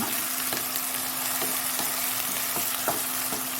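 Onions browning in a pan, a loud continuous sizzle up close with a steady hiss and regular scraping stirs roughly every half second, no voices.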